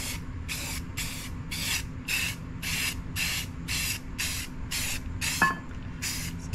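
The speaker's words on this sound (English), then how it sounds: "I got my primer. I've been shaking up." A spray can of primer is sprayed onto a marble run in about a dozen short, regular bursts of hiss, close and fairly loud, with a faint low hum beneath.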